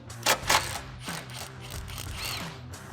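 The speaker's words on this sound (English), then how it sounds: "13 socket, extension, impact gun. Let's pop off those hanger brackets holding it to the frame." Impact gun with a 13 mm socket and extension rattling bolts loose from hanger brackets on a Dodge Challenger's frame, two sharp bursts near the start followed by softer ratcheting and mechanical clicks.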